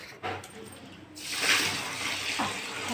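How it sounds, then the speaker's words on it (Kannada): Rice is washed in water, with close swishing and splashing building after a brief pause and continuing steadily, while a person talks over it. "ಅಕ್ಕಿ ತೊಳೆದು ನೀರು ಹಾಕಿ"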